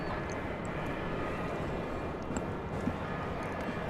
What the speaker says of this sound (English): I see American Flight 997 pushing back from the gate.